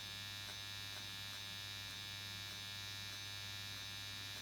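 A permanent makeup machine for powder brows buzzes faintly and steadily, a thin electric whine over low hum with a light rhythmic ticking as the needle moves.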